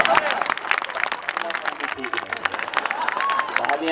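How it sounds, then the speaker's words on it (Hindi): Audience clapping at a Hindi poetry gathering (kavi sammelan), a dense patter of many hands that rises, dips and carries on, with a voice and some crowd murmur underneath. "तालियां बहुत जल्दी बजा दिया"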